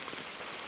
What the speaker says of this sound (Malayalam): മഴ ഉണ്ട്